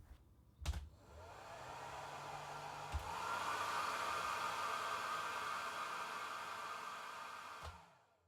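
A hair dryer blows steadily on a Logitech G Pro Wireless gaming mouse, a loud even rushing whoosh lasting several seconds, with a switch click at the start, a click partway as it changes setting, and another click as it shuts off.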